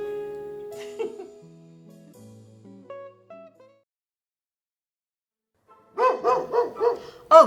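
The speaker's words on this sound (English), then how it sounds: "Oh, Teddy's barking." A dog barks several times in quick succession near the end, after a stretch of quiet tones and near silence.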